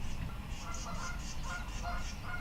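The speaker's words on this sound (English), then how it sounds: "There's the geese." Geese honking in a park, a run of rhythmic repeated calls at moderate distance over a low rumbling background, fairly faint overall.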